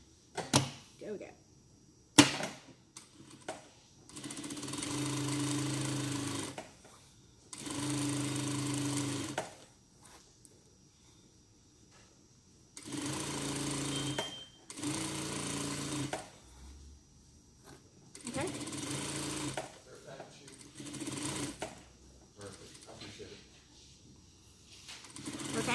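A sewing machine stitches an African-style baby dress in several separate bursts of steady whirring, each a few seconds long. Someone talks quietly in the pauses between runs.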